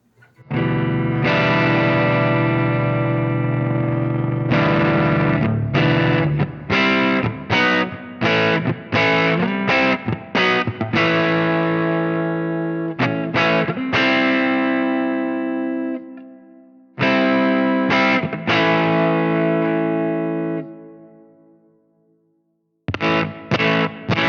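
Electric guitar runs through a Fractal Audio Axe FX compander compressor block, playing sustained, driven chords and short stabs with heavy effects, held notes fading out between phrases and pauses.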